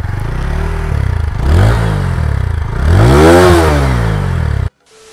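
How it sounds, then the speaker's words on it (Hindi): A TVS Apache 160 4V BS6 motorcycle engine idles close by, then revs twice, each rev climbing and falling back, before the sound cuts off abruptly. "तो अगर हम थोड़ा सा रेव करते तो इसमें कुछ ऐसी टाइप की आवाज़ आएगी"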